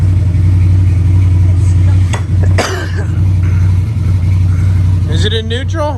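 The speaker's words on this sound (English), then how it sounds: "Give her a rev." A car engine idling in neutral holds a steady low rumble, with a brief rev swelling partway through while people talk over it.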